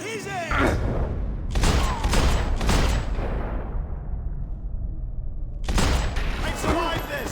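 Heavy video game gunfire comes in thick, booming bursts, several close together and then a renewed barrage after a brief lull, over a loud, continuous din with voices in the mix.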